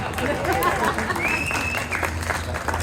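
Comedy show audience at an opening-act set in the El Vado Motel applauding, a steady wash of clapping and crowd noise with some chatter mixed in, moderately loud throughout.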